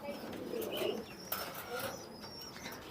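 Domestic pigeons at a pigeon farm give faint, soft coos and brief chirps, with a hint of wing flutter in quiet surroundings.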